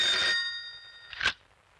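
A telephone bell rings in two short bursts, a longer trill followed by a brief second ring after a pause, fairly quiet and close, with no talking.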